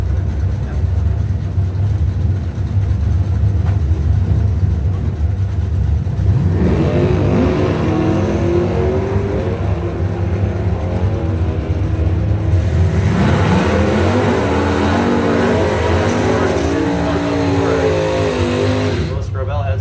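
Drag racing cars, including a 1972 Ford Maverick and a Harley entry, launch down the strip with rising, revving engine roars that build in two surges, carried under a constant loud announcer voice.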